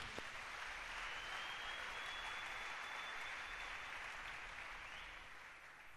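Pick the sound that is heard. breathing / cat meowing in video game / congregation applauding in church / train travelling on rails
congregation applauding in church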